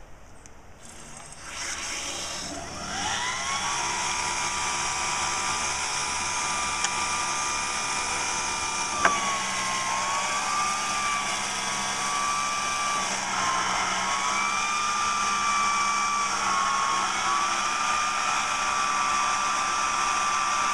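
A microhydro turbine spins up as a big water valve is opened at about 70 PSI: a steady, loud mechanical whine that rises in pitch and then holds, with a faint click partway through.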